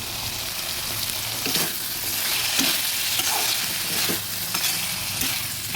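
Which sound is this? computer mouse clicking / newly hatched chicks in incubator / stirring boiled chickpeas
stirring boiled chickpeas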